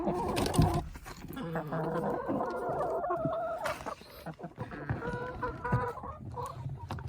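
Several chickens cluck and squawk close by in a busy, overlapping chorus, with short bursts of louder calls.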